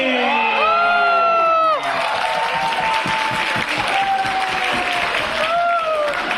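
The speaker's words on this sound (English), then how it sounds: "Huge round of applause for our runner-up, Jimmy." A crowd applauds and cheers loudly for award winners at a Rising Star Awards ceremony during a Buddhist convention, with whoops and shouts riding over sustained dense clapping.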